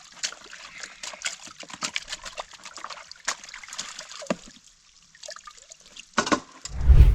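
Water trickles and splashes as gold concentrates from upper mats are panned in a tub in the field, with irregular soft sloshes and drips, some quiet pauses, and a louder swirl near the end.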